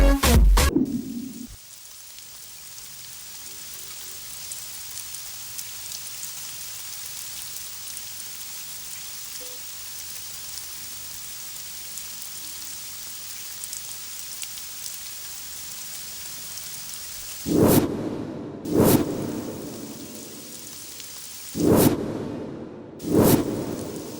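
Steady heavy rain pours throughout a Telugu horror movie scene, with several loud rumbling thunder bursts breaking in near the end.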